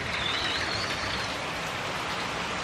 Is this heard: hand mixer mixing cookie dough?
no